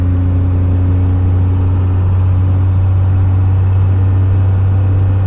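Toyota truck with a diesel engine driving a two-lane mountain road, a loud, constant engine drone and low rumble heard from inside the cab, steady throughout without talking.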